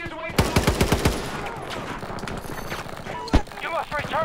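Rapid gunfire from a GEW rifle in Battlefield 2042, a burst of about eight sharp shots followed by scattered impacts and one loud crack near the end, mixed with game noise.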